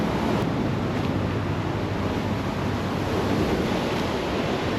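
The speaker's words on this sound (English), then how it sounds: "So the waves are stronger here." Strong ocean surf rolls in at Laniakea Beach on Oahu's north shore, a loud, dense roar of breaking waves mixed with wind buffeting the microphone, constant throughout with no talking.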